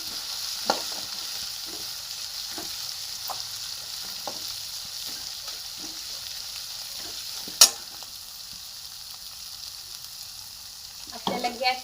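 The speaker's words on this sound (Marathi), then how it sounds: "गोल्डन ब्राउन कलर होईपर्यंत आपल्याला त्याला तळून घ्यायचं तेलामध्ये" Masala fries in hot oil in a pan for chicken dalcha, giving a continuous hissing sizzle with occasional light clinks of a stirring spoon against the pan.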